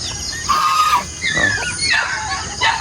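Peeping from a brood of more than a hundred young duckling chicks being raised on a small farm, a bright overlapping chorus of high calls that swells and dips in bursts, fairly close.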